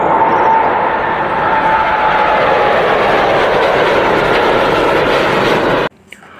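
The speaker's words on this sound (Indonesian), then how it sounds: "di sini ada kereta api cepat" A high-speed train rushes past with a loud, continuous roar that stays broad and steady for about six seconds, then cuts off sharply into near silence.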